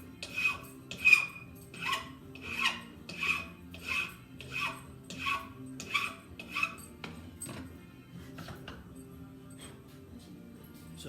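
A metal file rasps across a hammer workpiece clamped in a vise, about ten evenly spaced scraping strokes in a steady rhythm, close and moderately loud, then a few lighter irregular strokes.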